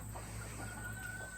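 Chickens cluck in a chicken pen, several short soft clucks repeating close by over a steady low background hum.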